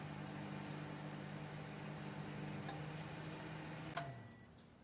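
A repaired microwave oven heats water with a steady low electrical hum that winds down near the end, followed by a sharp click.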